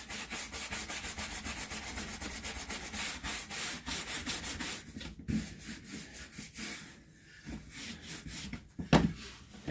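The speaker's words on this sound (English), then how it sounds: "Really get a nice buff onto that leather. This will work it in and get any excess off that I missed." Leather being buffed by hand to work in a conditioner and wipe off the excess, giving a continuous close rubbing swish with rhythmic strokes that slow and break up toward the end.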